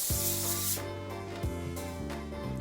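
A hissing aerosol spray in short bursts, close by, with a few brief pauses between sprays.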